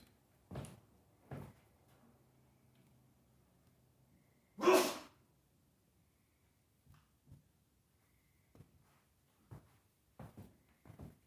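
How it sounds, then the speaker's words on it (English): One loud sneeze stands out amid a quiet room, with scattered soft knocks and thumps before and after. "I'm going to walk off camera here and sneeze."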